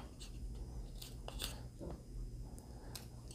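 A knife whittles a small owl from wood, cutting at a slight angle in small bites. It gives a scatter of short, crisp scraping cuts over a steady low background hiss.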